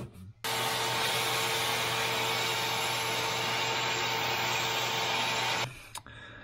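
A vacuum cleaner switches on and runs at a loud, steady whine with a hum under it for about five seconds, then shuts off, while working in the engine bay of a Land Cruiser with a 3FE engine.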